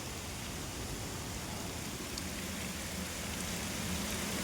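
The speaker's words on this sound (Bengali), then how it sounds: "প্রচুর বৃষ্টি হচ্ছে প্রচুর ওইদিকে পুরো সাদা হয়ে আছে একদম" Dense, steady heavy rain hisses continuously outdoors during a fishing trip, a broad wash of falling water with no voices and no pauses.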